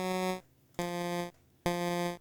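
A chiptune synthesized instrument plays three short, buzzy square-wave notes separated by brief silences, each tone steady and clean with a hard start and quick decay.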